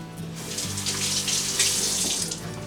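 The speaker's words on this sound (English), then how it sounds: "Now I'm going to wet my hands." A kitchen tap runs steadily as hands are wetted under it, a close, continuous splashing hiss of water into a sink with no talk.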